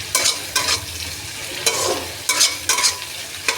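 Chicken frying with softened onions in a pan, stirred in repeated quick scraping strokes over a steady sizzling hiss, close and fairly loud.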